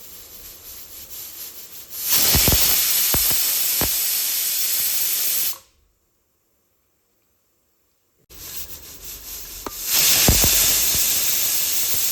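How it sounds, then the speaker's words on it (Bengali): Steam shoots from a pressure cooker of chicken stew in two loud, sustained hissing releases, close by and separated by a silent gap, with no talking. "মুখটা বন্ধ করে সিটি মেরে নেব মোটামুটি আমি এখানে তিনখানা সিটি দিই"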